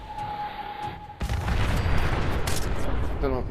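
A Big Boy mini nuke detonates in Fallout 4, a sudden heavy blast after a quiet moment with a faint tone, followed by a sustained, rumbling roar of debris and noise that tails off with a brief ringing ding.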